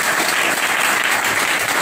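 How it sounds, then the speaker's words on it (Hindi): A classroom audience gives steady, dense applause that stays at an even level for the whole stretch, with no break. "इनके लिए जोरदार ताली बजा दी"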